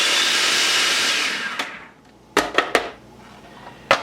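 Food processor briefly whirring salt and xanthan gum, a loud motor whine that winds down, followed by several sharp clicks and knocks of the lid and bowl.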